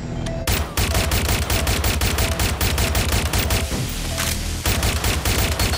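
Pistol shots ring out in Watch Dogs Legion as rapid, loud, closely spaced cracks in a near-continuous volley, pausing briefly before resuming.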